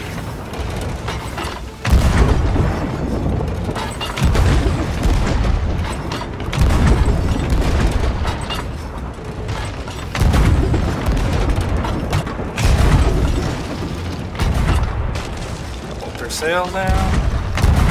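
Ship cannons firing in the pirate game Sea of Thieves during a fight with two brigs: a run of heavy, booming blasts at irregular intervals, loud and close, mixed with ongoing talk.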